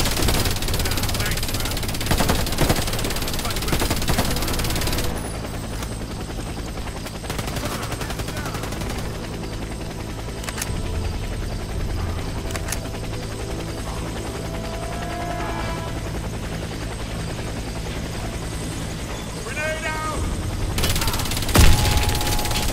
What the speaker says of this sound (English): Helicopter is inbound. Prepare for extraction.